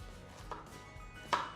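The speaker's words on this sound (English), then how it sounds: "I'm dicing the onions first" A knife dices onions on a board, giving a few soft, irregular chops with one sharper strike near the end, quiet and close with no talk.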